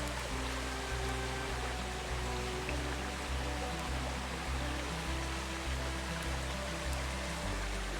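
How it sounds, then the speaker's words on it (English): A stream runs steadily at a bee farm near black currant groves and a garden, a continuous rushing water wash with no voices over it for the whole stretch. "You can hear the stream in the background really running."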